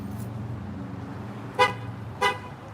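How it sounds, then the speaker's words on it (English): Two short honks from a white truck's horn sound close by, separated by about half a second, over a steady low rumble of road traffic and idling engines. "Is it this truck honking right next to me?"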